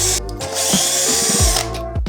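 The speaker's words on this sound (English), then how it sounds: "You can also use your hex key, but it's not as effective as an electrical screwdriver." An electric screwdriver backs hex screws out of an electric scooter's wheel rim, whirring loudly and close in several short bursts, with brief pauses between runs.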